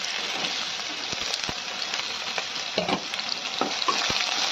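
Chopped potatoes fry in hot oil with bay leaf, dried red chilli and black cumin, giving a constant soft sizzle. Occasional clicks and scrapes of stirring come through, and no one talks.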